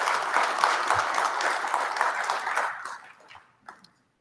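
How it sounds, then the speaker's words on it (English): Guests at an alumni board dinner applaud, a sustained burst of many hands clapping that thins out and fades away, with a couple of last scattered claps at the end. "So, that deserves a round of applause."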